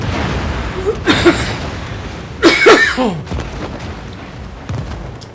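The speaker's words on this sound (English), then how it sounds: "Sorry for that cough" A single cough during a World of Warships gameplay session, two short harsh bursts close to the microphone over low game background noise.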